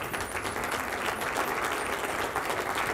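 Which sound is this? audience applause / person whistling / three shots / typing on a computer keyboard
audience applause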